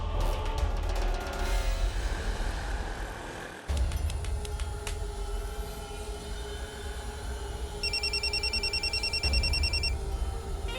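A telephone rings indoors near the end with rapid trilling bursts, heard over a loud, low rumbling background and bright percussive hits.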